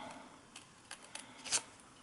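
Scissors snip paper for a homemade Halloween candy jar, a few quiet separate cuts with a crisper snip near the end, alone without talk.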